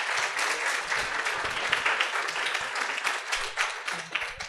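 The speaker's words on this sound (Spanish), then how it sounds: "les pido otro fuerte aplauso para la doctora." A lecture audience gives a speaker sustained applause at a nanomedicine course session, many hands clapping in a dense, fairly close, steady wash.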